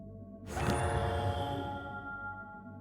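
A Minecraft magic wand effect: a shimmering whoosh swells up with sparkling, chiming tones and a low rumble, then slowly fades away with a ringing tail.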